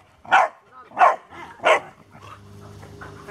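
A boxer dog gives three loud, close barks at an even pace, then a low steady hum carries on alone.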